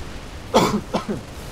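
One person coughs twice up close, a rough throaty cough followed by a shorter one, with quiet around them.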